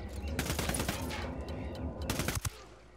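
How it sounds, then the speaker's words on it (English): Rapid bursts of automatic gunfire in the Ghost Recon video game, loud and dense for about two and a half seconds before cutting off, with a few separate shots near the end. "Opening fire."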